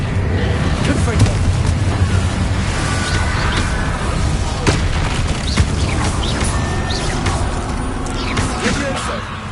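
Confringo blasting-spell explosions in the Hogwarts Legacy video game come as loud, repeated booming blasts over a rumbling, dense game soundscape.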